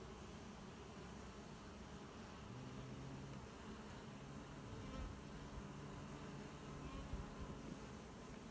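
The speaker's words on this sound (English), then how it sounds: "We're gonna go play with the bees." Honey bees hum around hives on a homestead in a constant, faint, dense buzzing drone, with individual bees passing close now and then.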